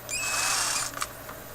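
A power drill spins a file during turntable maintenance, giving one close, steady high whine that lasts under a second and then cuts off with a few small clicks as the tool stops.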